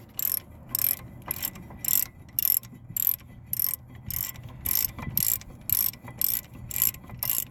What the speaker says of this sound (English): So we'll just finish wrenching it off.